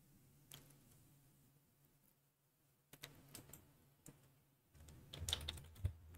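Quiet clicks on a computer keyboard, a few sparse keystrokes at first and then a quicker burst of typing near the end.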